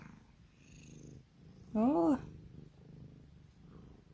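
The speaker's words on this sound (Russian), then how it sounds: "Мурлычет. Тарахтит прямо." A domestic cat purrs loudly and steadily close by, a continuous low rattling rumble, with a short voiced exclamation breaking in briefly midway.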